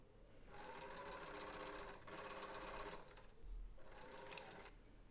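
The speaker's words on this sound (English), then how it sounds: "And now sew all around, leaving a turning hole in the blue part" A sewing machine stitches fabric for a bottle holder in steady runs of rapid mechanical whirring, pausing briefly between bursts, close and clear with no talking.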